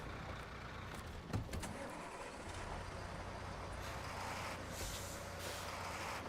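Trucks driving in the off-road game SnowRunner: a continuous engine drone with a sharp hiss like an air brake release early on, then steady motor noise carrying on to the end, with no talk.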